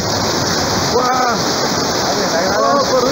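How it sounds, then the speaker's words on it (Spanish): A heavy tropical downpour in Arequipa roars steadily and loudly, with brief voices calling out over the constant rush of water. "Mega lluvia tropical de selva. Diluvio. Poderosísima lluvia."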